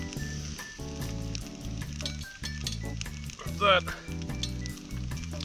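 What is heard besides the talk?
food sizzling in a frying pan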